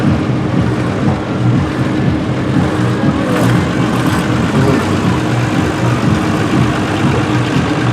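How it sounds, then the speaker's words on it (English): A Ford D series lorry drives past at the Shrewsbury Steam Rally, giving a loud, steady diesel engine rumble close by that continues throughout without a break. "Lovely little Ford just passing my window, a D series"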